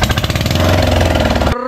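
A boat engine runs loud and steady with a fast, rough mechanical chug, then cuts off abruptly near the end.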